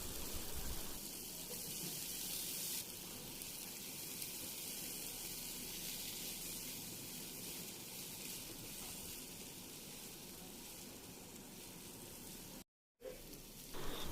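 Yardlong beans and potato sizzling in hot oil in a pan for a tilapia curry, a steady, moderately loud hiss and crackle that continues throughout with only a brief dropout near the end.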